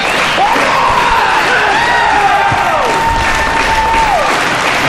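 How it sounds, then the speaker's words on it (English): A wrestling arena crowd at an independent show cheers and claps in a loud continuous roar, with a voice rising and falling over the din. "The crowd's starting to get lively here in the ASW arena"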